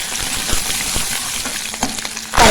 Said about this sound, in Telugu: కరివేపాకు కూడా చూడండి ఎలా చిట్పట్లాడుతుందో